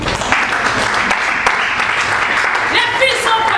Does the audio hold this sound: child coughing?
no